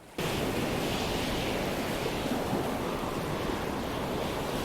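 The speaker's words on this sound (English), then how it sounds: "Give me some high waves." High ocean waves in the video game Stormworks roar as a dense, continuous wash of surf and wind noise that cuts in abruptly and stays loud and steady.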